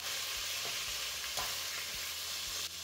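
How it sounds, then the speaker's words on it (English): Beef sizzles steadily while being seared in batches in a pan for a classic beef and potato stew, a constant frying hiss with a few soft stirring clatters, close and alone. "Continue searing the rest of the beef."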